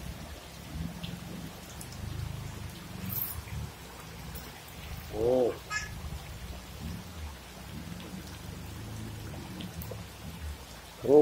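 Heavy overnight rain falls during flooding, a steady low roar of downpour with distant rumbles and a few brief louder bursts, and no one speaking.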